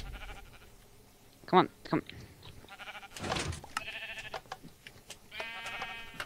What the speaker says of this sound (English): Hey, a black sheep.